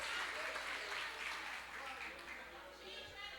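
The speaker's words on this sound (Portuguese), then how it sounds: "Aplauda a Deus pela vida deles." A church seminar congregation applauds steadily, a soft continuous wash of many clapping hands with faint voices mixed in, fairly distant and even throughout.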